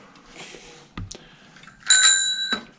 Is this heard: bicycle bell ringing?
yes